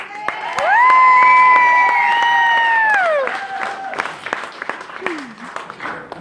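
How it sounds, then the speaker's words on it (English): Wedding guests at a vow renewal ceremony applaud and cheer, a loud burst of clapping with high sustained whoops that settles into scattered claps and shouts. "Applause for Shelley, please."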